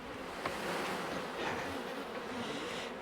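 Honey bees hum in a dense, continuous drone around a hive as a frame is shaken during varroa treatment, with one faint knock early on.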